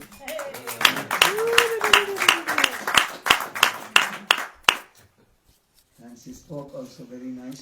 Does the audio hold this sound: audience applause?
yes